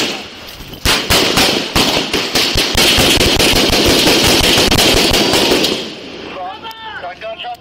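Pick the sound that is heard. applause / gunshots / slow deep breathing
gunshots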